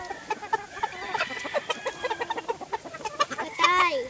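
Chickens cluck on a farm, with a run of short, irregular clucks close by and a longer rising call near the end, while faint voices murmur in the background.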